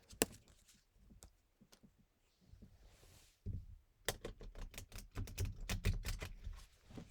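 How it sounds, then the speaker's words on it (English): Crisp papery riffling and rapid clicking bursts of a card deck being shuffled, quiet at first, then a dense flurry of snaps near the end. "Then I'm going to shuffle the deck."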